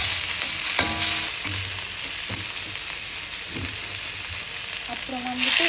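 Tomatoes frying in a pan for mutton black pepper varuval, a loud steady sizzle with occasional scraping stirs and brief clanks, a short tonal squeak near the end.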